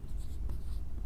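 Chalk or marker scratching across a board during a Hindi chemistry lesson on Raoult's law, a brief, steady near scrape with no voice over it.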